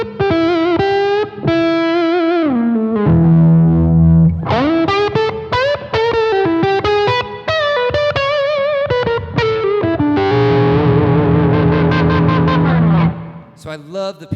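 Electric guitar with a P90 pickup and the tone knob rolled fully back, producing a warm, dark, sustained woman tone; a continuous melodic lead line with bends, held notes and fast runs, loud and alone.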